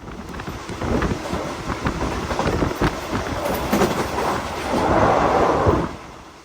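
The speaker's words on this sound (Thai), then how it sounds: "ขบวนรถไฟของเราก็กำลังจะวิ่งผ่านสถานีโคกเกลืดครับ" A Thai high-speed train runs along an elevated track on the Sikhio–Nakhon Ratchasima section, its loud, continuous rolling rumble and rattle building into a fuller roar toward the end, with no voices.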